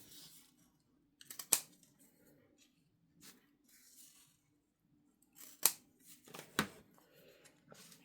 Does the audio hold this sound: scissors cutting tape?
yes